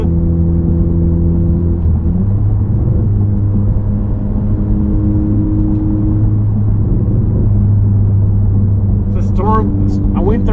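An 11th-generation Honda Civic Si running a Phearable 2.5 flex-fuel race tune revs through an acceleration pull, the engine droning and rising in pitch under load, with a voice speaking faintly over it near the end.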